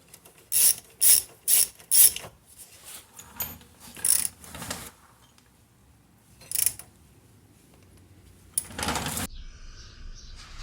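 A ratchet wrench tightening the 14mm ball joint pinch bolt on a Subaru Outback steering knuckle: a rapid series of loud, close clicking bursts, then a few spaced single clicks and one longer ratcheting run near the end.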